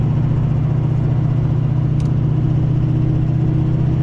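A Duramax diesel truck with a compound turbo and ZF6 transmission cruises steadily, giving a constant loud low drone and rumble with no change in pitch and no talk.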